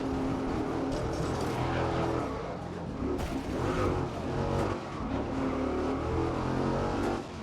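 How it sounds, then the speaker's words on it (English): A muscle car in the GRID racing game roars with a deep, throaty engine note, revving and accelerating continuously at close range with shifting pitch and no pauses. "The sounds are nice and, at the moment, because it's a muscle car, nice and throaty."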